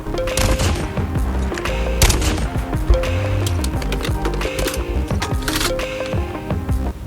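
Rapid bursts of automatic gunfire from an anime-themed weapon skin in Call of Duty Mobile, loud and close, with sharp repeated shots running steadily through the moment and no talk over them.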